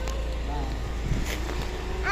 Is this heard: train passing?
no